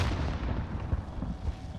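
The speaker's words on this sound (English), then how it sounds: "He's got the grenade launcher." Grenade launcher explosions in a multiplayer shooter game, a continuous heavy low rumble of booms and blasts, loud and dense with no speech.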